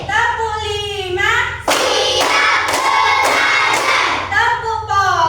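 Schoolchildren clap together in a rhythmic classroom clap game, a run of five loud, evenly spaced group claps set between the voices of the teacher and class.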